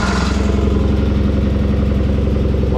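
A John Deere 318 lawn tractor engine, started with the key, runs close and loud with a steady, rapid low chugging and mechanical clatter, holding an even idle throughout.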